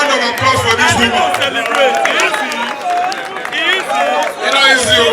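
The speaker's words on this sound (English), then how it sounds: "A round of applause for this woman." A crowd at a Labour Party political rally applauds and cheers for a woman, with loud, continuous shouting voices and clapping layered in a busy outdoor roar.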